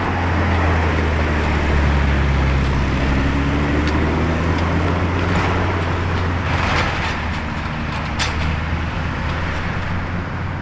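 A grey Ferrari F80 prototype moves through Maranello traffic behind a truck, heard as a steady, loud low drone of engines and road noise, with faint rattles and passing vehicle sounds over it.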